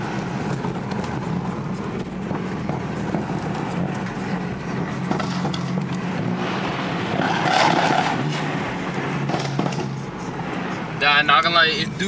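BMW M4 with a flame tune driving, its engine and exhaust rumbling steadily before louder bursts of crackle and a short tyre squeal near the end, with a voice talking over it.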